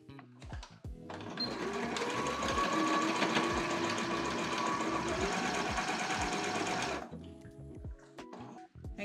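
A sewing machine stitches a sleeve seam in one continuous, close run of about five seconds, its rapid rhythmic whir starting and stopping abruptly, with faint handling clicks before and after.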